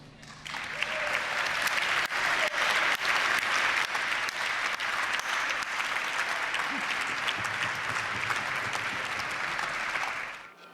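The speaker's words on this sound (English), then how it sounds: "I think they deserve applause" An audience at an evening gathering breaks into sustained, full applause, a thick even roar of many hands that holds steady for about ten seconds before stopping abruptly.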